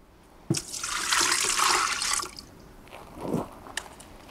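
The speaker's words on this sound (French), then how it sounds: "On va mettre une pelle d'eau." A scoop of water pours onto fishing bait seeds in one sustained, close splash lasting over a second, followed by a smaller slosh and a few drips.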